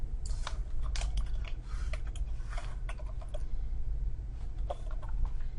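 A computer keyboard typed on while values go into spreadsheet cells: irregular, close clicks in short bursts over a steady low hum.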